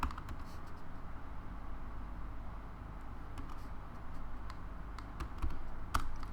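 Quiet, fast typing on a computer keyboard, small clustered key taps over a low steady background hum.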